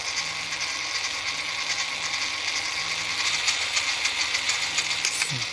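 A WPL C24-1 RC car with a replacement gear set and steel center shaft runs its gearbox in slow gear and then fast gear, giving a close, steady mechanical whir and hiss that grows slightly busier toward the end.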